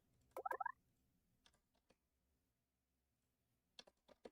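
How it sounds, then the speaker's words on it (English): Quiet clusters of keystrokes on a computer keyboard as dimensions are typed in: a quick burst of clicks, a few scattered taps, a long pause, then another short run of presses. "Just manually typing in dimensions for these"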